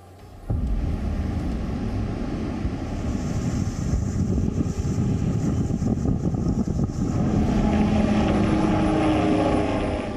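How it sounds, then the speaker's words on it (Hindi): Loud, steady rotor and engine roar of a surveillance helicopter passing overhead during Cyclone Tauktae preparations, with wind buffeting the microphone throughout. "हेलीकॉप्टर से निगरानी,"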